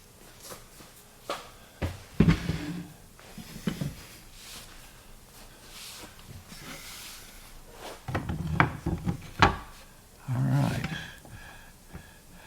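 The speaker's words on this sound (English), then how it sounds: "Let me grab a couple of clamps. Let's put this door together." Metal bar clamps are picked up and handled in a woodshop while gluing up a wooden cabinet door for a kitchen, giving scattered clanks and knocks, with a few louder bursts of rattling and wood contact.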